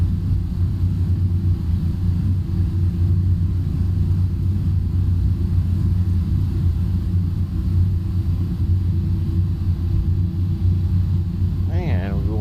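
MD-11 airliner rolling out down the runway after landing in MSFS2020, with reversers stowed at around 60 knots, a steady low engine rumble under continuous cockpit talk.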